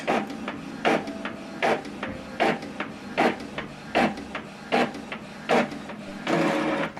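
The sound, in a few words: Epson WF-2950 printer copying a document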